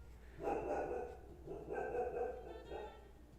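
A dog barks and yips in three muffled bursts at a moderate distance, over a steady low hum.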